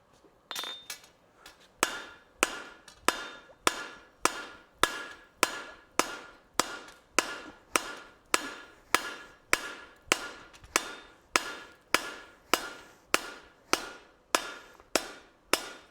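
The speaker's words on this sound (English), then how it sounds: "So I'm going to go ahead and hammer this out now. Go to the anvil." Steady, evenly spaced hammer blows on hot metal at an anvil during blacksmith forging, about two strikes per second with bright ringing clinks, moderately close and continuing without talk.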